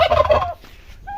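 A turkey gives a close, loud rapid gobble lasting about half a second, followed by a brief faint chirp from another fowl.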